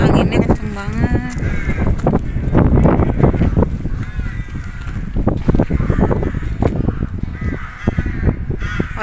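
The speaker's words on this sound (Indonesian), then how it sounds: "Sini anginnya kenceng banget" Strong wind roars across the microphone outdoors near an old factory building, a loud continuous buffeting rush with a voice speaking underneath.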